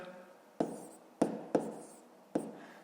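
Handwriting numbers during a fifth-grade math exercise: four crisp, separate pen strokes tap and scratch on paper at close range, each fading quickly, with quiet gaps between them.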